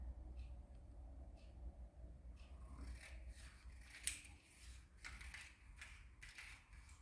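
Scissors cut through a woven mat: a faint run of quick crisp snips and rustling blade strokes, close up over a low background hum, with no one speaking.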